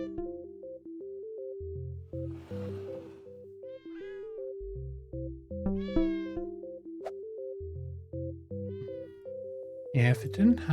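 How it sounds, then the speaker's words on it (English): A cat in a video game gives a string of short meows over a looping synth melody and a repeated electronic tone. A person talks over part of it. "Oh, there's a cat up top."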